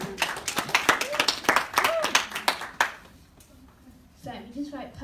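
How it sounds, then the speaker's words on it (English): A small indoor audience claps after a speaker's prompt, a burst of brisk, close handclaps lasting about three seconds, followed by someone talking over the fading room. "Whoever said that, give them a round of applause."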